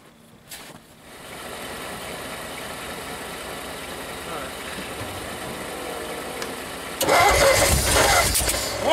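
A 1959 Ford Custom 300 that sat outside for 46 years is cranked cold, a steady churning engine drone building before it catches and roars much louder near the end, with voices in the background.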